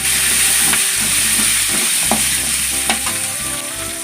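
A handful of small shallots frying in hot oil for a Tamil crab masala gravy: a loud, close, steady sizzle with spoon stirring and scraping throughout, no talk, with a faint tonal background hum.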